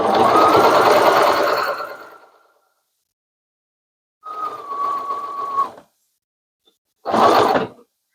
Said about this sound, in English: I'm just going to sew real close to that edge.